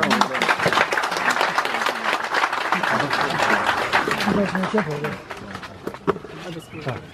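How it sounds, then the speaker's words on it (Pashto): An audience at a gold medal presentation ceremony for a teacher breaks into continuous applause, dense clapping from many hands sustained throughout, with voices talking over it. "تاسو ورته چکچک وکړئ استاد"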